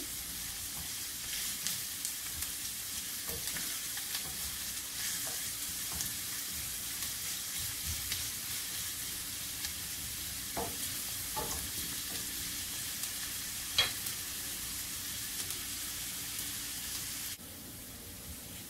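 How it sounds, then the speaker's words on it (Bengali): Onions frying in oil in a pan for tuna kabsa, giving a steady mid-level sizzle through the whole stretch, with a few light spoon scrapes and taps breaking through now and then, and no talking. "পেঁয়াজ ভাজা হয়ে গিয়েছে,"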